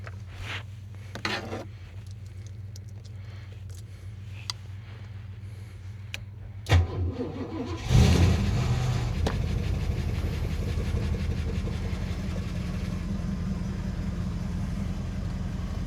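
A few faint clicks and rustles, then a Holden VN SS engine cranks and catches, settling into a steady, rumbling idle that continues to the end.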